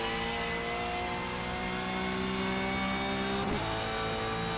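A race car engine in a sim racing game drones at a steady high pitch during a hot lap, loud and continuous, with a brief dip and shift in tone near the end, like a gear change or braking.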